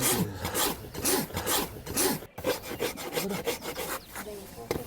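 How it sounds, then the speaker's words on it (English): A farrier rasps and levels a horse's hoof wall with a file, giving steady repeated scraping strokes at close range that briefly break off midway, with no talking. "Rasping at the beginning, you have to be very careful. You have to make it very flat."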